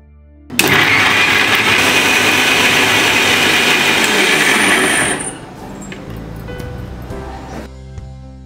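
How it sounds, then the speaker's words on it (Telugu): A kitchen mixer grinder blends cucumber pieces with fenugreek-soaked water into juice, roaring loud and steady for about five seconds before cutting off, leaving faint rattles and a low hum. "ఇప్పుడు మిక్సీ పెట్టి మెత్తని జ్యూస్ లా చేసుకుందాం."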